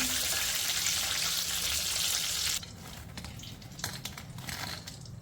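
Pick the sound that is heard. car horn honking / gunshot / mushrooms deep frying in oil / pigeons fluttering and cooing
mushrooms deep frying in oil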